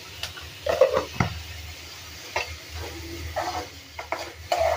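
Soaked fenugreek seeds being sautéed give a soft, uneven sizzle, with scattered scrapes and clinks of a spoon against the pan.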